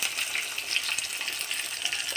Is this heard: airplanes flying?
no